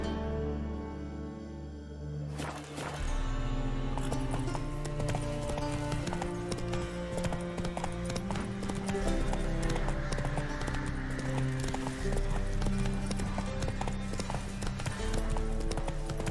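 Hooves of a horse in The Witcher 3 clip-clop in a steady walking rhythm, close and clear over a continuous layered game music bed, with a brief whinny-like sound possible near the start.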